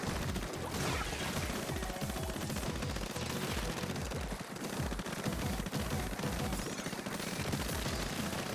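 An explosion in a Splatoon 3 Splatfest match sits within dense, continuous game noise of crashes, rapid fire and impacts, loud and sustained throughout with no talking.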